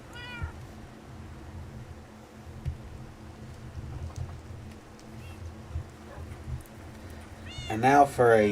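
A cat meows in the Minecraft video game: one short meow near the start, then a louder, drawn-out meow at the end, over a steady low background murmur.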